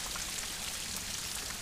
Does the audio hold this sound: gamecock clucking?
no